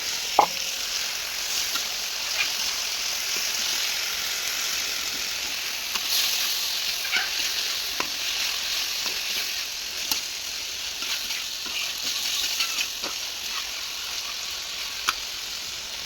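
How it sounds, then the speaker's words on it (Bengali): Two fish fry dry in a pan with a steady, close sizzle throughout, broken by occasional sharp taps and scrapes of a utensil. "এখানে মাছ দুটো শুকনো ভাজি করে নিলাম"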